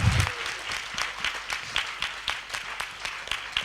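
A small audience claps after a children's drama for the Ganesh Chaturthi festival, with a brief loud burst at the start settling into light, uneven clapping that continues steadily throughout.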